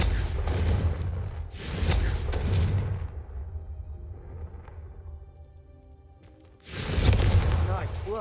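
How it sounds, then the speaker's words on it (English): Confringo fire spell blasts in Hogwarts Legacy, three loud booming bursts with fiery crackle, separated by a quieter stretch, with talk mixed among them. "a Confringo cast travels a bit farther than that of a spell like Incendiary"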